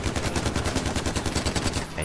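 A golden AK rifle fires continuously in Far Cry 4, a rapid, steady automatic stream of loud close shots with a regular rhythm and no pauses.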